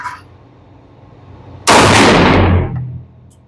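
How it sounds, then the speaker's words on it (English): A single loud, close blast from a Rock Island 22 TCM pistol at an outdoor range, a sudden sharp report with a long booming tail lasting about a second, after brief quiet. "We got this Rock Island out here, 22 TCM. And this is first shots."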